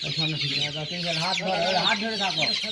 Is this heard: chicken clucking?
yes